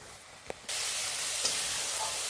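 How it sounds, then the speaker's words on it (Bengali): Chopped tomatoes with chili powder fry in a pan, a soft sizzle that jumps to a steady, louder hiss after a faint click, continuing close and alone. "এবার এটাকে একটু, টমেটোটাকে একটু ভেজে নিই।"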